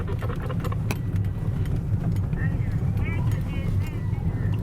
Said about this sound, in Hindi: कुछ कारें सड़क पर हैं अभी।